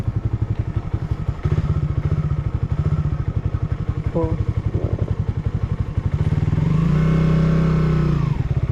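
A motorcycle engine idles with a steady loud chug, then revs up and pulls away, the pitch rising and falling as it rides off close by.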